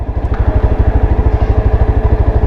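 A Yezdi Adventure motorcycle rolls in first gear with the clutch released and no throttle, its engine thumping in a steady, rapid, loud idle pulse close by; no one speaks.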